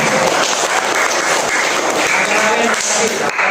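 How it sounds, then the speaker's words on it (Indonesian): A room of elementary school pupils in an Indonesian classroom claps together in dense, loud applause that fills the whole moment, with voices mixed in. "Tepuk tangan."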